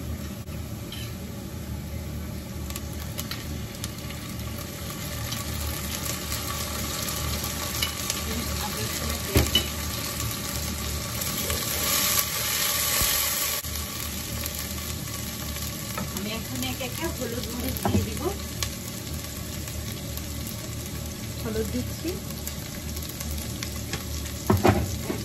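Cumin and ginger-garlic paste sizzle steadily in a pan while a spoon stirs now and then, a soft continuous frying hiss with occasional light clinks.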